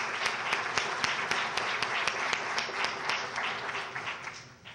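An audience at a League of Women Voters candidate forum claps in a dense burst of applause. The many hands sound moderately close, and the applause tapers off near the end.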